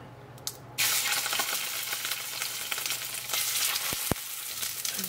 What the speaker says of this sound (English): we're going to sear our fish